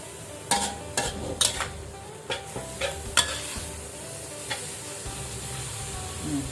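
Minced duck for laab is stir-fried in a pan until cooked, a steady sizzle broken by sharp, repeated clacks of a spatula against the pan, close and without talk.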